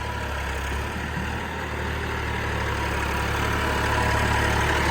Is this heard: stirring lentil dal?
no